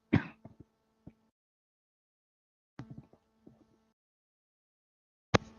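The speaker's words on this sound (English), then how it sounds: "I had to cough." A single harsh cough or throat clear, followed later by two more brief throat-clearing bursts separated by quiet pauses, at Bruce's Beach in Los Angeles.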